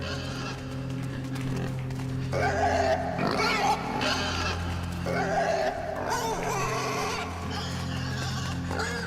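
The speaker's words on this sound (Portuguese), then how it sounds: "Um porco que não está bem morto" Pig oinking and grunting in a video game, several grunts over a sustained ambient music bed with low drones, fairly loud throughout.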